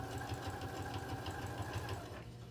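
A sewing machine runs steadily, top stitching along the folded edge of a fabric bin, giving a quiet, even mechanical whir with a fast rhythmic needle pulse throughout.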